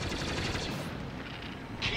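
Battle cruiser cannons firing in Star Wars Battlefront 2, a dense, sustained barrage of booming shots and rattling gunfire layered over a constant roar of battle noise, with a brighter burst near the end.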